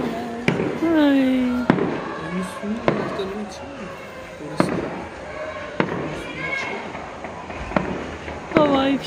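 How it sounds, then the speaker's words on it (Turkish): Fireworks burst outside during a celebration in Turkey, about half a dozen sharp, loud explosions at irregular intervals, with people talking and whistling tones between the bangs. "Havai fişekler."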